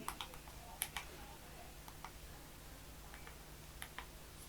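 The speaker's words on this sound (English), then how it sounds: "if I want to type YouTube, I can simply turn it on and then type YouTube" Light tapping on a wireless keyboard connected to a TCL smart TV, a sparse, uneven run of faint clicks in a quiet room with no talk.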